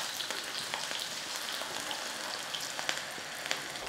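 Mushroom pakoda dropped into hot oil and frying, a steady bright sizzle with crackling pops running throughout, close and fairly quiet with no talking.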